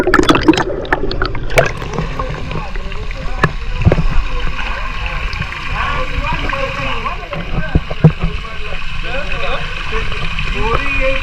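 Water gushes from a borewell pump at a farmhouse in a loud, rushing, splashy stream with gurgles, and people talk over it.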